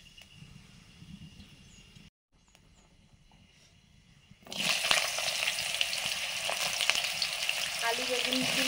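Panch phoron whole spices crackle in hot mustard oil, first a low, quiet sputter, then after a brief gap a sudden loud, bright, continuous sizzle swells and holds close up.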